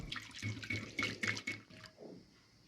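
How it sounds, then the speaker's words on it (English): Water and yeast are stirred by hand in a large bowl, giving about eight close, rhythmic sloshing swishes that slow and fade into a few quieter splashes, with no talking. "I stir until water and yeast dissolve well."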